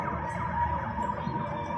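An ambulance siren sounds steadily and fairly loud for about two seconds as the vehicle passes nearby, its wailing tone mixed with low traffic rumble and no talking.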